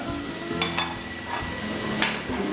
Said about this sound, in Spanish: Agregamos la huancaína y hasta acá.